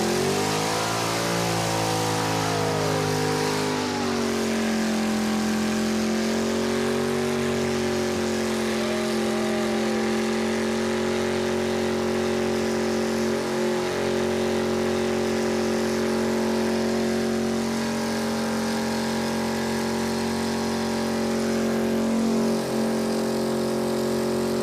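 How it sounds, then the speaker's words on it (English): A Daytona drag car holds a long, loud two-tire burnout, its engine roaring and revving continuously at high load, close and with no talking. "So of course, we head to the burnout."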